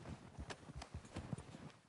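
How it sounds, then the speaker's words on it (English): Horse hooves clip-clop in Red Dead Redemption 2, a quiet, steady run of soft thuds at a walking pace, fairly near and with no talk. "Get a hold of that horse, Morgan."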